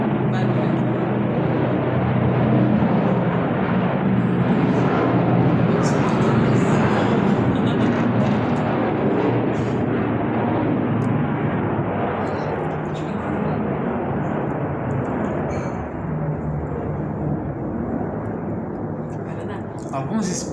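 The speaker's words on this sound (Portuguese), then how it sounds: "Esperando o avião passar." A long, steady rumble of an airplane passing overhead, dense and loud at first and gradually easing as it moves away, with faint speech mixed underneath.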